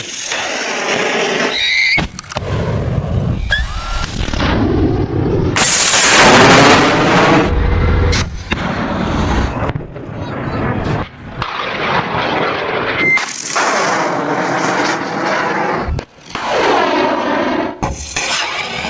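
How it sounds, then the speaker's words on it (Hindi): A Russian Igla-S missile firing, loud bursts of roaring, hissing launch noise with sharp broadband blasts and squealing tones, repeated over the span. "ये जो खास तरह की मिसाइल आप देख रहे हैं, इसका नाम है ईगला एस और ये रूसी मिसाइल है"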